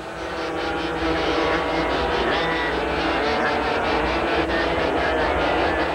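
Yamaha KT100 class air-cooled sprint racing karts on the final lap at the Riverside track, a steady, loud, high-pitched two-stroke engine drone that carries the whole time under a commentator's voice.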